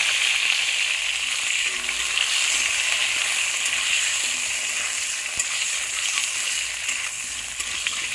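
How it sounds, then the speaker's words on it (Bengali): Potatoes and eggplant frying in a pan give off a steady, close, bright sizzle with faint stirring scrapes, with no talking. "এবার কেটে রাখা আলু আর বেগুনগুলোকে দিয়ে দেবো।"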